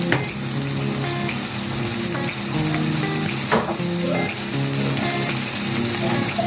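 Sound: tomato sauce sizzling on sautéed minced meat

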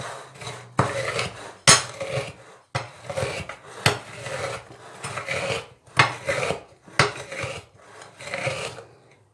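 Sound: crushing Oreo biscuits by hand in a bowl

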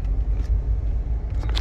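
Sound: car approaching on a road

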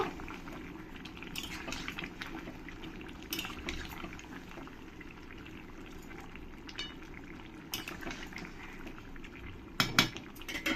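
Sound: mixing capsicum into chicken kosha in a pan

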